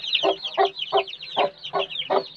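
Lassani hen giving a steady series of soft, rhythmic clucks, about six evenly spaced calls in two seconds, close by with faint chick peeps around her.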